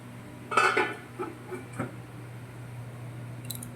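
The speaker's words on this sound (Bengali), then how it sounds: "এখন আমি এটা ফোটার জন্য ঢাকনা দিয়ে ঢেকে দেব" Lid placed over a pot of simmering shahi paneer gravy, one sharp metallic clank followed by a few lighter taps and rattles, then a quiet background hum.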